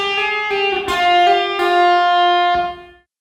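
Electric guitar plays a short run of hammer-on and pull-off notes from a solo, a few clean sustained notes with effects, alone and close, ringing out at the end.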